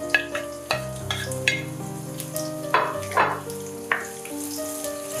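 Sliced onions, about one medium onion, fry in a pan toward light golden with a continuous soft sizzle, occasional stirring taps and steady tonal sounds in the background.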